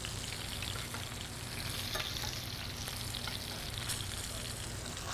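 A ribeye steak with its fat cap sizzles loudly and steadily in a pan while being basted with sage- and rosemary-infused oils. The dense frying crackle runs unbroken from start to finish, with no one talking.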